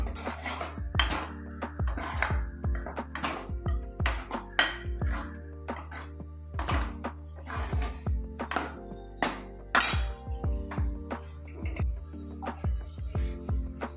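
A spoon repeatedly clinks and scrapes against a metal pot while yam curry with ground coconut is stirred, in irregular close clatters over a quiet background.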